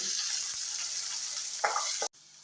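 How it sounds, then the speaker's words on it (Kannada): Ginger, garlic and green chilli fry in oil in a pan, a soft steady sizzle with a couple of brief stirring scrapes before the sound cuts off abruptly. "ಜಿಂಜರ್ ಗಾರ್ಲಿಕ್ ಮತ್ತು ಗ್ರೀನ್ ಚಿಲ್ಲಿ ಚೆನ್ನಾಗಿ ಫ್ರೈ ಆಗಿದೆ"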